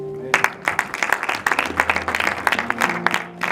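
A church congregation claps during a sermon, with a burst of scattered, uneven hand claps from a group in a room and some voices and a sustained tone underneath.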